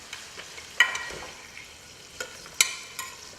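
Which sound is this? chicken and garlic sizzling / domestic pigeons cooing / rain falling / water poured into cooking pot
chicken and garlic sizzling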